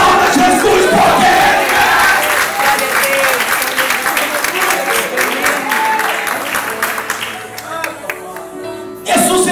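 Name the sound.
congregation applause and shouts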